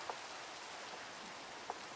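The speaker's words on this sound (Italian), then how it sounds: "Puoi togliere con un comando la pioggia?" Steady rain hiss in the video game Minecraft, an even wash of falling drops with a couple of faint clicks, no talking over it.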